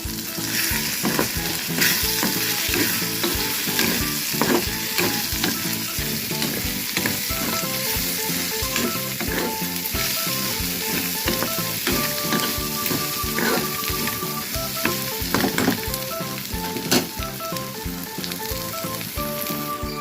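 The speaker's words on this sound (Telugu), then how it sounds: "ఇప్పుడు కలయ పెడుతున్నాను" Egg and eggplant fry is stirred in a pan, giving a loud, continuous sizzle with scraping and clinking of the utensil throughout.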